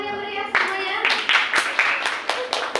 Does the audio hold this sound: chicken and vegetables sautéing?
no